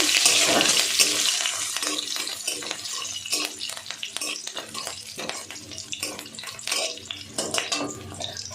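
Cumin seeds with dried and green chili frying in oil in a pan for a light semolina dish, with a steady crackling sizzle broken by stirring scrapes and clinks of a spoon against the pan, close and fairly loud.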